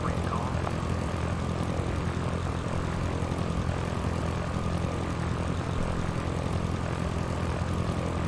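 Steady, droning propeller engine of a Cessna in the Sierra Pro Pilot flight simulator game, flying a downwind approach; a continuous low hum runs throughout at even loudness, with no speech over it.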